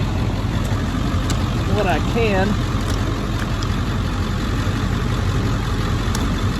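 A truck idling in an ice storm with its front grille clogged by ice, giving a steady low engine rumble close by while someone speaks briefly over it.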